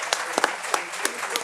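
An audience applauds a professor at a contract law congress, a short burst of clapping with a few sharper individual claps standing out.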